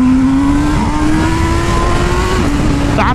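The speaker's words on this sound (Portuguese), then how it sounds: "Dá pra escutar o barulho da turbina" A loud, steady engine drone from a turbocharged Honda CB1000 motorcycle, with a rising turbo whine building over a few seconds, ending in a brief high chirp; no voices.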